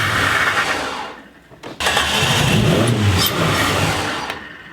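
Slightly flooded engine with wet plugs cranking and catching, a loud close mechanical roar that sags briefly, then picks up and runs steadily.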